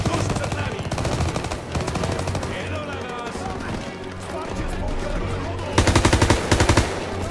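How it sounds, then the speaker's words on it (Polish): Automatic and rapid gunfire in the World War II shooter Call of Duty: WWII, loud and close, with sustained bursts and a heavy volley near the end, mixed with shouted voices and game sound. "Padły strzały!"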